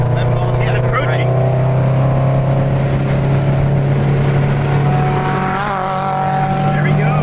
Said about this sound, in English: we're going to let this Miata go by